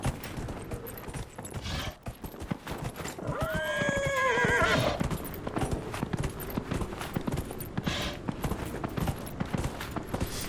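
A horse in Dragon Age: Inquisition whinnies loudly midway amid a steady, rapid clip-clop of hooves, with a sharp crackle of game effects throughout.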